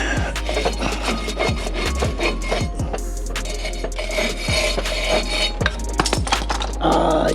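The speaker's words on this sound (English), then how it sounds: "I'm gonna scrape it off first." Loud, steady scraping rasps up close as debris is scraped off the rear brake parts of a Silverado pickup, the strokes coming in an uneven rhythm.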